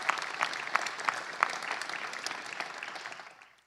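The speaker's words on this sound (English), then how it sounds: "Please give them a great round of applause." Crowd at the Phoenix Suns NBA All-Star announcement event applauds, a fairly distant, even patter of many hands with a few sharper claps standing out, tapering off at the end.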